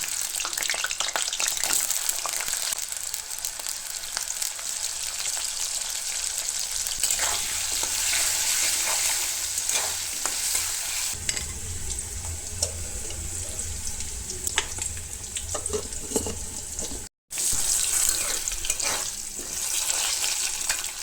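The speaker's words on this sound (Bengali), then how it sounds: "প্রথমে আমি একটু আলুগুলো ভেজে নেব" Potatoes frying in a little oil in a pan, a continuous loud hiss of sizzling with occasional stirring scrapes, close up, briefly cut to silence near the end, no talk.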